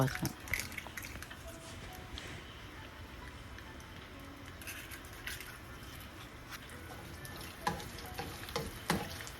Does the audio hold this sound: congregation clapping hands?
no